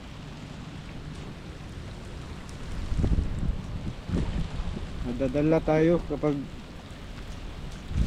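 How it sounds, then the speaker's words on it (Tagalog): Strong gusty wind buffeting the microphone on an open fishing trip during a thunderstorm, rising in heavy rumbling bursts while someone speaks over it. "Tapos ang lakas pa ng hangin."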